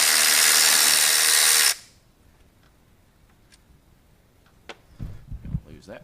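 A power ratchet whirs loudly and close for under two seconds as it backs a bolt out during injector harness work on a 7.3 Powerstroke diesel engine. It then cuts off into a quiet shop, and brief voices follow near the end.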